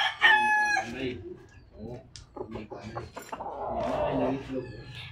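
Rooster crows loudly and close at the start, followed by clucking and other farmyard animal calls, with scattered background noise throughout.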